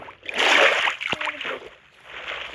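Water bucket being filled or emptied in Minecraft: a loud splashing slosh swells in the first second, then softer watery splatter returns near the end, with a brief sharp click midway.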